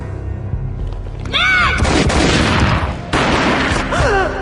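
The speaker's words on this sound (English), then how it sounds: "A gunshot boomed and she fell down in slow motion." A loud gunshot booms in the Max Payne video game, followed by a long reverberant, crackling tail; a second blast comes a moment later amid dense game effects, with voice-like tonal sweeps over the top.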